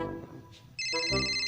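After a brief quiet murmur, an electronic phone ringtone starts abruptly, bright and steady, close and clear.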